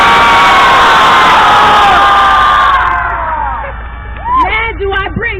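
A large protest crowd screams and cheers loudly in a sustained roar that fades after a few seconds, leaving scattered whoops and individual shouts.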